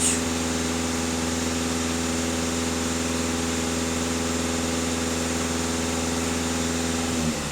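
A VW Passat 2.0 TDI diesel engine with AdBlue, undergoing emissions system cleaning, runs at steady held revs, a loud, constant close-up drone that barely varies throughout, with no voices.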